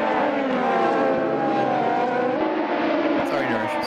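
A Radical race car drives at Lime Rock Park, its engine a loud, continuous high whine with shifting pitch, while voices talk over the noise.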